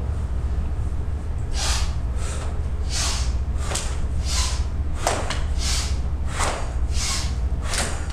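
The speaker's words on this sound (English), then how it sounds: "This is inhale through your nose, exhale through your mouth." Slow breathing exercise in a yoga and chi gung session, about ten airy breaths in through the nose and out through the mouth, evenly spaced and close, each a soft rushing puff over a low steady hum.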